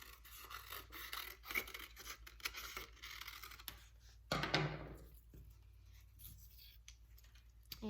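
Scissors snip carefully through a black paper square, a run of small close crisp cuts with one louder, longer slice near the end, quiet and without talk.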